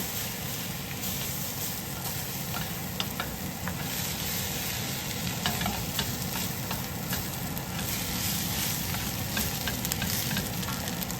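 Rice with shrimp and egg stir-fries in a wok over high heat, giving a loud, steady, unbroken sizzle with scattered crackles and spatters throughout.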